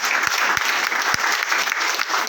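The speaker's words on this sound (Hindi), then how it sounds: "मैं चाहूँगा सभी करोड़पति के लिए एक बार जोरदार तालियां हो" Short burst of audience applause at a business plan presentation, dense clapping from a seated crowd, loud and close throughout with a few sharper individual claps standing out.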